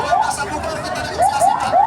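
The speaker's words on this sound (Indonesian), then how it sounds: "Buka jalan, ambulan masuk, buka jalan" Indonesian ambulance siren wails in rising electronic sweeps, repeating quickly over crowd chatter at a street protest outside the MPR/DPR building, moderately near.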